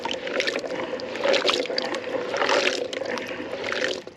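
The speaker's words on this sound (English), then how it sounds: "let's put some water in here" Water poured into a container of Kalamata olives for brining, a steady splashing, gurgling stream with small surges, close and fairly soft.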